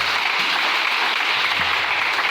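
Church congregation applauding the Lord together, a dense, steady wash of clapping from many hands that fills the space evenly from start to finish.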